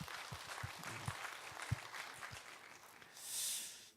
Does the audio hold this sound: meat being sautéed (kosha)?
no